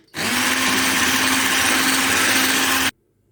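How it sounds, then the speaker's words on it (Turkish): A mixer whisks chocolate cake batter with vanilla just added, a loud steady motor whine that starts sharply, holds evenly for nearly three seconds, then cuts off. "ve bir paket vanilya kullanacağım. Onu da ilave ettim. Yine hafiften şöyle bir çırpacağım."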